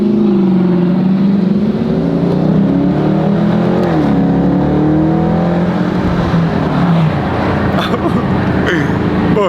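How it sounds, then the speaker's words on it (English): A car engine runs quietly and steadily at low revs, with a smooth hum that rises and falls slightly as it moves; no one speaks. "Bro, his car is so quiet"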